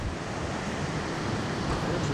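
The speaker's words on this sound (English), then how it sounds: "the sound of the rushing waters enhanced the complete atmosphere of this beautiful place in the forest" A forest river rushing over boulders makes a steady, loud broadband roar of water that fills the whole stretch without a break.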